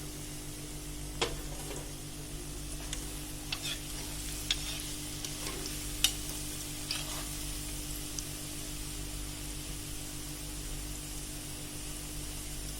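Uppu seedai, small rice-flour dough balls, frying in hot oil, a quiet steady sizzle and bubbling with a constant low hum and occasional faint clicks, no voices.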